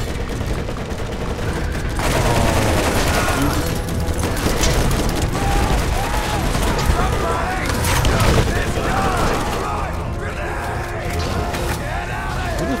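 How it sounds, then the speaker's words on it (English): Shotgun fire in the video game Borderlands during a busy co-op firefight: loud, repeated booming shots amid continuous gunfire and explosions, with players talking over the noise. "Shotgun."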